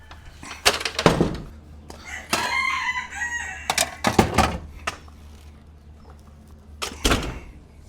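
Chickens cluck and squawk nearby, with a rooster's crow among them, plus a few knocks and clatter in between.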